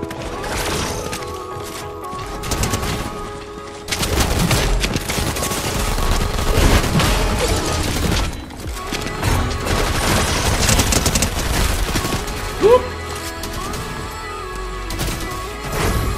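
Gunfire in Fortnite Zero Build squad play: dense, loud automatic bursts and rapid shots crackle almost continuously, with booms and crashes layered in and a brief sharp hit near the end.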